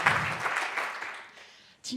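A burst of audience clapping in the French Senate fades out over about two seconds, close and fairly loud, followed by a brief sharp noise at the end.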